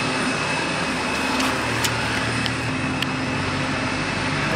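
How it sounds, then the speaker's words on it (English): Airplanes at Santa Barbara airport make a steady, moderately loud engine drone that hums on without pause, with no voices. "I'm gonna sit right here and watch the planes."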